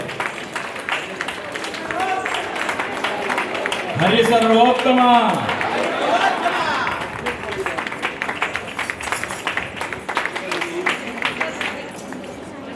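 Audience at an anniversary celebration programme breaking into applause, a burst of clapping and crowd noise that swells and fades while a voice talks over it.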